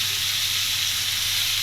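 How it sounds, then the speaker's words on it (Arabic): Spices sauté in a hot pan, giving a steady, unbroken sizzling hiss that stays close and even from start to finish. "احنا هنديها بقى تشويحه مع البهارات اللي احنا حطيناها"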